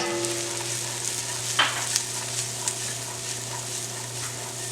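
Peas and beef bacon with a little garlic and onion sizzling in a frying pan, a steady close hiss with a few soft pops and a brief burst of stirring.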